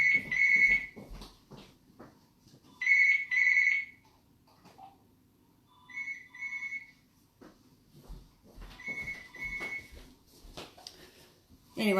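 A phone ringtone sounds in four separate bursts of bright, repeating electronic tones, with quiet gaps between them and faint indoor background in the pauses.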